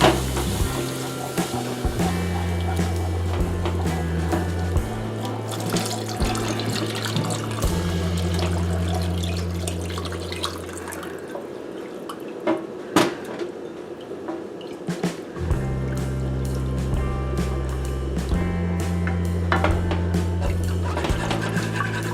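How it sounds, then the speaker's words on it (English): Beef stock pours into a gravy pan, dripping and trickling liquid splashing steadily for a long stretch over a background of soft music. "so we can go ahead and add our beef stock"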